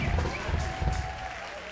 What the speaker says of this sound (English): How about everybody keeping those round of applause together?